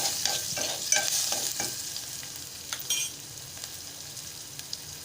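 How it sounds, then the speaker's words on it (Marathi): Finely chopped onion and four garlic cloves sizzle in hot oil while a spoon stirs and scrapes the pan in short bursts, then the frying settles to a softer crackle. "बारीक चिरून घेतलेला कांदा आणि चार लसणीच्या पाकळ्या मी फोडणीला घातल्या आहेत"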